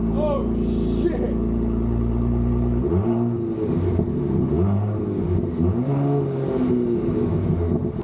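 A 2018 Audi SQ5 with its large exhaust resonator removed idles, then is revved repeatedly, the engine note surging and falling in a loud, raspy series of blips while someone talks.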